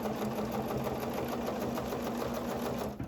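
A sewing machine stitches one long quarter-inch seam on a placemat, a rapid, even, mechanical chatter running continuously at close range before stopping abruptly right at the end.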